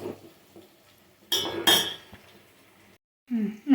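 Boiled chickpeas are mashed in a dish with a metal utensil, giving a few sharp clinks and scraping knocks between quiet gaps, with a voice speaking briefly at the end.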